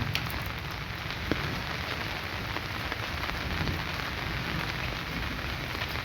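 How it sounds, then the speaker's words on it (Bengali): Light rain falling outdoors on an overcast day, a steady, even hiss of drops on surfaces that stays constant throughout with no voices. "হালকা হালকা বৃষ্টি পড়ছে দিকে বৃষ্টি অনেকটাই কমে গেছে তাও হালকা হালকা বৃষ্টি পড়ছে"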